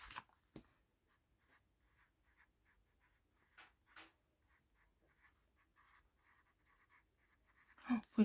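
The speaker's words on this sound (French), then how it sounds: "faut l'écrire vachement petit parce que ça va pas" Pen or pencil scratching faintly on paper while writing by hand in an Easter journal, soft intermittent strokes in a quiet room, with a few louder bumps at the start and a clatter at the end.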